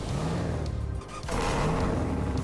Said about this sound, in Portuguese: novos sons de partida